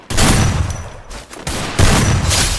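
Rapid bursts of gunfire in the mobile battle game Free Fire during a one-on-one match, loud close shots in several clustered volleys with brief gaps between them.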